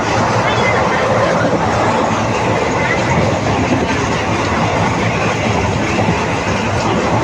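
Superfast express train on the Dindigul to Madurai line picking up speed, a continuous loud interior rumble and rail clatter with a voice faintly mixed in.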